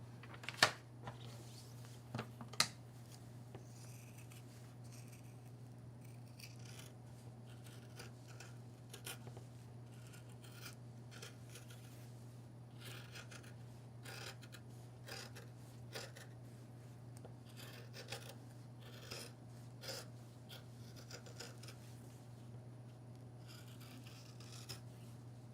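Scissors snip through fabric while cutting out pattern pieces for a quilt-as-you-go strip-pieced bag, giving quiet scattered cuts and rustles over a steady low hum, with a few sharper snips near the start.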